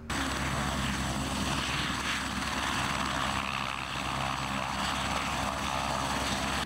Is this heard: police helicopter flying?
yes